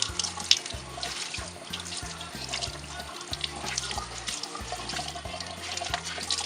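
Tap water runs steadily into a sink while makeup brushes are rinsed, a continuous close splashing rush with faint knocks and clatter underneath, no talking.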